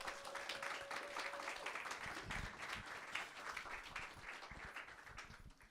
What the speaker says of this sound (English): Let's give them a round of applause for supporting us.